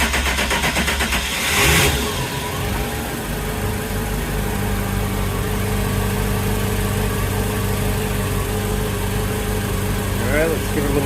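The port motor of a 2003 Sea Ray 320 Sundancer cranks and starts with a burst, then settles into a steady running rumble; someone talks briefly over it.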